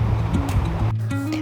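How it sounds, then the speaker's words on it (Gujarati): A mountain river runs below the peaks at Hanuman Chatti near Badrinath, giving a continuous broadband rush of water with a low droning hum mixed in throughout. "ધ્યાનથી સાંભળશો તો તમને નદીનો અવાજ પણ આવશે."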